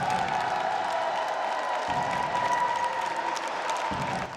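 A home crowd applauds and cheers at a basketball game in Zaporizhzhia, a dense, continuous roar of clapping with a faint steady tonal hum running underneath throughout.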